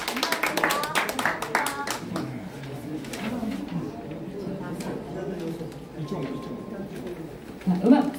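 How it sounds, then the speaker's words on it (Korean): Warm audience clapping at a 2024 Korean awards ceremony held in the Seoul Club at the Press Center, a burst of sharp hand claps up front that fades within a couple of seconds into murmuring voices and room noise. "여러분 따뜻한 박수 부탁드리겠습니다"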